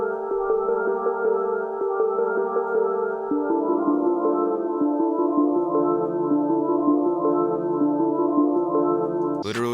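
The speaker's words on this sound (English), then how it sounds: "The sound that I used for this was the halo key from our one-shot kit" A spacey synth key one-shot plays a sustained, layered melody with gentle stepping chord changes, smooth and continuous with no voice over it.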